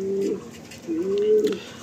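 Pair of Kalanka pigeons cooing close by, two soft rising coos in quick succession with a faint tonal warble, no voices.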